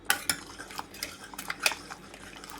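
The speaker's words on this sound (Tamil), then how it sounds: "நல்லா கடைஞ்சி விட்டுக்கணுங்க" A metal spoon stirs and mashes lamb leg soup with shallots, garlic, ginger and tomato in a pot, giving sharp close clinks and scrapes against the metal in an uneven rhythm.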